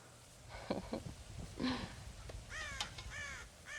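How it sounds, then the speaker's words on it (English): Crows caw in the Red Dead Redemption video game, several harsh calls in a loose sequence, the last ones clustered and louder, with no talk over them. "God damn crows!"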